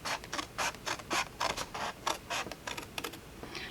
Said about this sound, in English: I'm just going to cut up. Cut right into that score line,